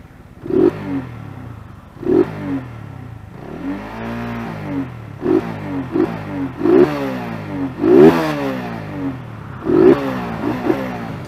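A TVS Apache RTR 200 motorcycle with a K&N air filter and stock exhaust, its engine revved repeatedly in sharp bursts that rise and fall, with one longer sweep, loud and close, with no talk.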